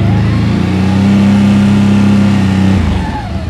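A 2024 CFMoto CForce big-bore ATV engine runs loud and close while reversing, a steady mid-pitched drone holding firm before easing off at the end.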